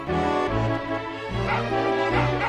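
A dog barking and whimpering in the Final Fantasy 8 video game, a loud, close run of tonal yips and short barks repeating in a steady rhythm over game sound.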